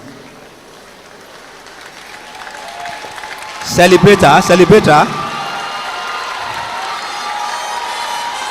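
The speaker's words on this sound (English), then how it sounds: "please clap for her" Audience at a university convocation ceremony breaks into a short, loud burst of clapping and cheering lasting about a second, with speech over a PA before and after it.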